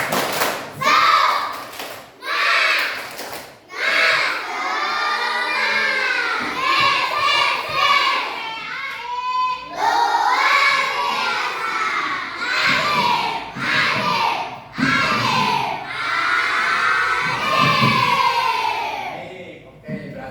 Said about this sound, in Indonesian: Coba tepuk semangat dulu biar ini belajarnya semangat.